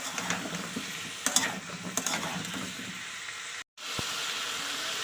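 Potatoes fry and sizzle in a pan with spice paste, giving a close, bright hiss punctuated by scraping and stirring knocks, followed by a short silent cut and steady frying.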